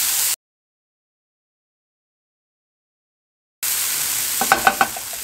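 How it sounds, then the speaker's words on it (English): Onions and peppers sauté in a pan with a loud, close hiss that breaks off into a long silence. It returns with a few quick spatula clicks, and no one speaks. "The onions and stuff are starting to sweat out"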